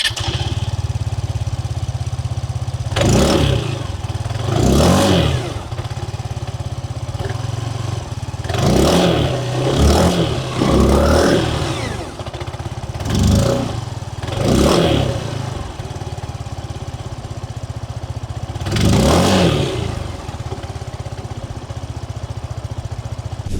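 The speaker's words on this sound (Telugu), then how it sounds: "సో ఈ స్కూటర్ లో ఎగ్జాస్ట్ నోట్ ఎలా ఉందో ఒకసారి చూద్దాం మనం" An Aprilia Storm 125 scooter revs through its exhaust in a series of sharp throttle blips over a steady idle: a pair of bursts, a tight cluster of three or four, two more, then one final rev. No one speaks.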